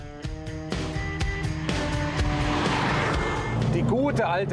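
A vintage Porsche built by hand in Thun, Switzerland, is driven, its engine droning steadily with rising and falling revs and a few sharp clicks, while a voice talks over it.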